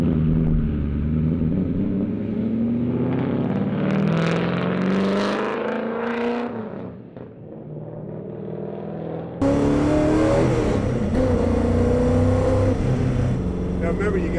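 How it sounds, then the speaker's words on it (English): Muscle car engine roaring in a high-speed burnout near 100 mph, shifting from second into third, a loud sustained rising rev that dips briefly before surging again, with a voice talking over it. "It's amazing the burnout it does at about 100 miles an hour, shifting from second into third."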